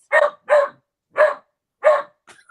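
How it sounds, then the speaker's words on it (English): A dog barks at a cat indoors: four sharp, loud barks spaced about half a second apart, followed by a faint whimpering yip, with silence between barks and no talking. "She's barking at the cat right now."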